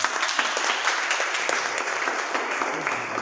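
A seminar audience applauds with dense, sustained clapping that stays steady and fills the hall, with no voices heard over it.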